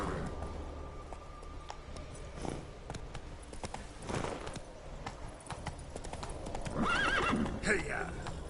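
Roach the horse from the Witcher 3 video game clip-clops along at a gallop and gives a whinnying neigh near the end, under game ambience and a voice talking.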